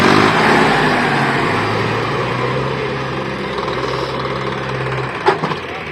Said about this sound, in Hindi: चल रहा है दोस्तों ट्रैक्टर।